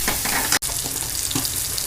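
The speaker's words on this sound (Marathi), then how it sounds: "मी हे तेलामध्ये छान तळून घेतलं आहे।" Raw green mango pieces fry in oil for a pickle, a dense continuous sizzle with a momentary break partway through.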